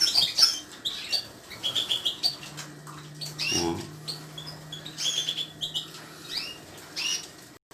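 Goldfinches and canaries in an aviary twitter and chirp in quick bright bursts, scattered through with some wing flutters, while a person talks over them.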